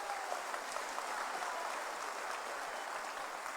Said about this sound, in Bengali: এবার সবাই মিলে হাততালি